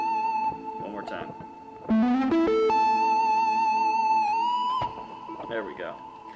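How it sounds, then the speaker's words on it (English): Electric guitar played through a reverb effect, sustained bent notes and a held tone ringing out with a washy tail, loud and up front, with a sparse backing track beneath and brief talking at the start and end. "It just sounds great, and especially if I use my better reverb."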